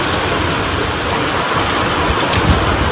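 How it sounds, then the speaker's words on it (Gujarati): Heavy monsoon rain pours down steadily over village farm fields, a dense continuous hiss and patter close by with no pauses for the full length. "ધોધમાર વરસાદ પડે છે"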